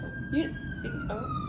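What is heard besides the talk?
emergency vehicle sirens passing on a busy road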